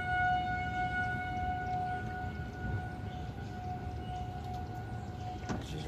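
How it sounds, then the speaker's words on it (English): Outdoor tornado sirens sound continuously near the Illinois–Indiana border in stormy weather, a long steady wailing tone carrying over a low, rumbling background throughout. "Our tornado sirens are going off."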